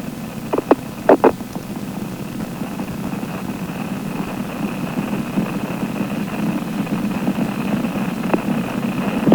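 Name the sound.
Space Shuttle Columbia main engines roaring during launch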